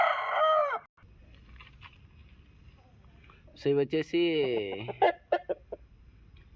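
Country chickens cluck and call in a few loud, close bursts, including a drawn-out crow-like cry, with a person speaking briefly between them.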